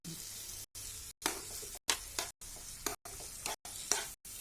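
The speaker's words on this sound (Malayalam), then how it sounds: "കായപ്പൊടിയും കൂടി ഇട്ട് കൊടുത്തിട്ട് പതുക്കെ ഒന്ന് ഇങ്ങനെ വഴറ്റി കൊടുക്കണം" Asafoetida powder sautéing in a pan over low flame for bilimbi pickle gives a soft, steady sizzle broken by brief gaps, with faint stirring scrapes and no voices.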